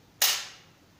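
A single sharp gunshot from a small arm fires as a salute, one crisp loud crack followed by a short decaying echo, with no voices around it.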